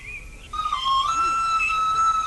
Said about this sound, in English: I'll go out on the stairs and try out my new whistle.